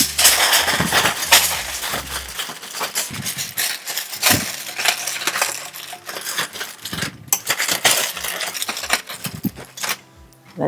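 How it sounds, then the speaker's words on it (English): A loose sheet of aluminum foil is laid over a beef brisket in a roasting pan for the oven, loud close crinkling and crumpling in irregular bursts with brief pauses. "So I'm going to put another loose piece of foil right on top."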